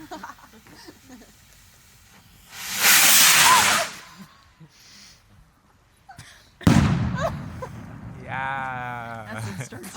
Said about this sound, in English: we're gonna see what happens when we light a Mercury rocket in the garage